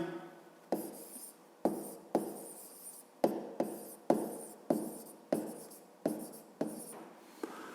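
A pen scratching on paper while a math solution is written out by hand, with a dozen or so short rhythmic strokes, close and clear.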